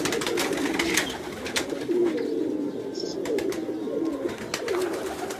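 Several pigeons cooing on a rooftop, a steady low murmur of overlapping coos running throughout with scattered sharper noises above.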